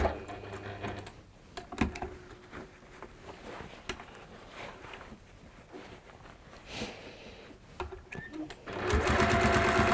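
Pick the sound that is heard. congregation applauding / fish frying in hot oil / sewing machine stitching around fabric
sewing machine stitching around fabric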